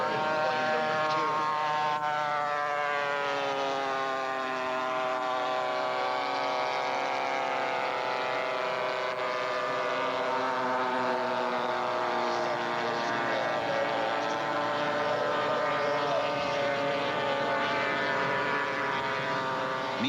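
AT6 race planes at an unlimited air race in Madera, California make low-level passes, a loud continuous droning propeller and engine roar that holds steady and strong the whole time with a shifting, rising-and-falling pitch.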